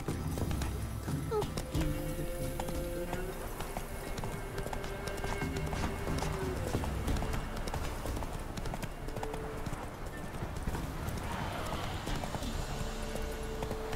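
Hooves of a galloping horse in The Witcher 3, a steady clip-clop running continuously under a dense game soundscape of music and ambience, fairly loud and close, with no break.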